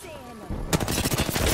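Rapid gunfire in an arena shooter video game bursts in after a brief quieter lead-in, with dense overlapping shots continuing to the end while a voice talks beneath.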